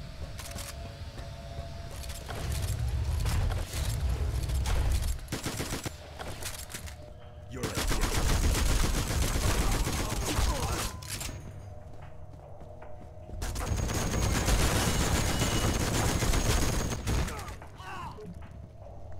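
Bursts of rifle fire from an AK in the video game Spy Hunter: Nowhere to Run, rapid volleys in three long stretches separated by quieter gaps with footsteps and clatter, while someone talks over it.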